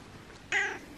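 A single cat meows once in a snowbound home setting, a clear, fairly close call lasting about a quarter second against quiet background.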